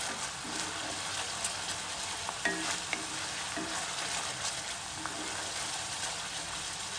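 Schezwan fried rice with tomato ketchup is stir-fried in a pan, giving a steady, fairly quiet sizzle with a few soft scraping stirs, and no voices.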